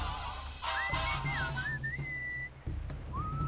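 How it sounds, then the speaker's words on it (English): A melodic whistled tune in the game Sam and Max, sliding notes rising and falling, heard fairly close over a low rumbling background with a couple of thumps. "What is that enchanting whistling sound?"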